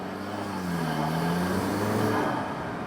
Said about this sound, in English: you can hear that turbo spooling all the time